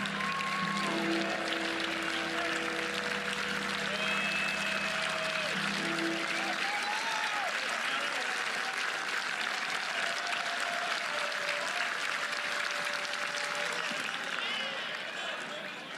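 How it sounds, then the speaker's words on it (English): A baseball crowd at a college game cheers and applauds steadily as fans rise for a possible final pitch, a loud continuous roar with a play-by-play voice talking over it. "Crowd getting on their feet, hoping they need just one more pitch to end this one."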